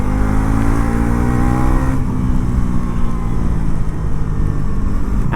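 Close, loud engine roar from a Bajaj NS 400 Z (350cc) motorcycle under way, accelerating with a steady rising drone and wind noise throughout.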